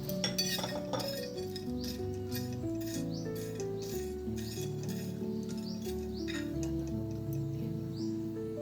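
Whole cloves, peppercorns, cinnamon, nutmeg, black cardamom, mace and cumin seeds dry-roast on a tawa. Steady clinks and rattles of the spices and a utensil against the metal ring out close and fairly faint, with no talking.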